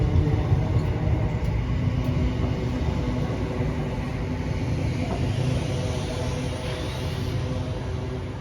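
Trains pass through Motherwell station with a steady, broad rumble of wheels on rails that holds throughout, fairly close and uninterrupted, with no voices.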